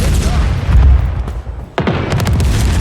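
Explosive blasts from the Firecracker power weapon in a Halo-style arena shooter match, a dense roar of booms and crackling detonations that drops out briefly, then returns with a sharp burst and continues loud.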